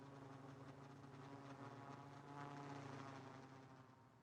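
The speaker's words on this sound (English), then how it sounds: "Sounds like second drone's coming." In the video game Rust, a drone hums and whirs steadily like a distant rotor aircraft, swelling slightly before fading.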